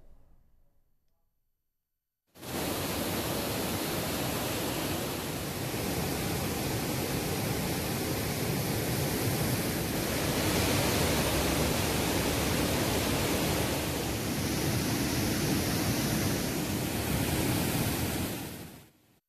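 Floodwater rushing through the sluice gates of the Chozhan Thittu check dam across the Pazhayar river in Kanniyakumari, a loud continuous roaring torrent that bursts in after a quiet start and stays steady until it cuts off.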